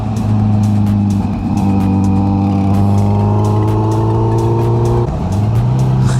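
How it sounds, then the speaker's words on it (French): Kawasaki Z900 motorcycle riding along a country road, its engine droning loud and close with steady harmonic tones that rise through the gears, a brief dip and shift near the end, plus wind rush throughout. "le problème de la Z900, c'est que c'est la moto la plus puissante que j'ai"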